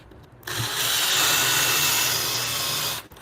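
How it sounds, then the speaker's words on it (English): A Forstner bit bores into wood to cut a mortise for a timber-frame bunk bed, a steady, loud whirring drill sound lasting a few seconds before cutting off abruptly. "we're using a Forstner bit to do so preliminarily"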